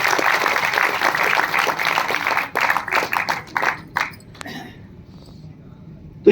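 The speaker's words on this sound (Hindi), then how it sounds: "मैडम की तालियां बजा दीजिए।" An audience at a mega function in Kanpur claps for a few seconds, dense at first and then thinning into scattered claps before fading to near quiet.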